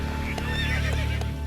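A wild horse neighs in a loud, wavering whinny that fills the moment, with a few faint hoof clops beneath it.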